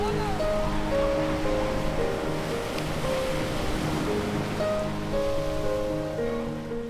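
Sea waves wash onto the shore at Clifton Sea View in Karachi, a continuous broad roar of surf. Sustained musical tones play over it.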